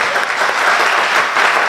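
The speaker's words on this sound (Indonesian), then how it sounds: "Beri tepuk tangan dulu buat Tuhan kita" A church congregation applauds at a Sunday worship service, with steady, dense clapping that holds for about two seconds without voices.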